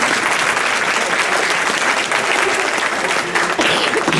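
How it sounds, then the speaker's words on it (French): Loud, continuous audience applause at a French community charity event speech, with dense clapping holding steady for several seconds and only faint crowd murmur beneath. "on peut l'applaudir."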